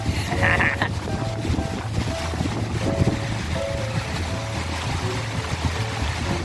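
Steady wind blowing through an open park, a continuous broad rush with low rumbling gusts buffeting the microphone, no talking.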